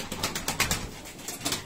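Pigeons coo softly in repeated low bursts, close by, with a faint rustle of birds moving around them.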